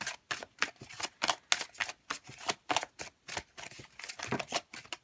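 Oracle cards shuffled by hand during a tarot reading: a quick run of crisp, papery riffling bursts, about a dozen sharp slaps in steady rhythm, close and clear with no talking.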